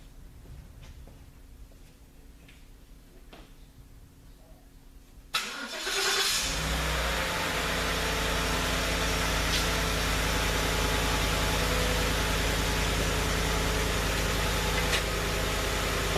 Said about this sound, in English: I'm going to start the vehicle so you can see this.